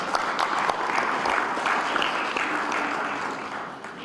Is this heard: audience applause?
yes